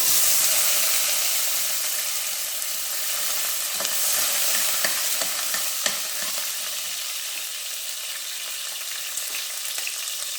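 Dried red chillies, onion and garlic fry steadily in a pan with a continuous close sizzle, with a few sharper spatula stirs scattered through, no voices.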